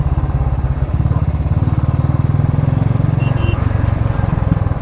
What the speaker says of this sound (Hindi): ऐसे रूट्स में बाइक चलाने का मज़ा सुबह में ही है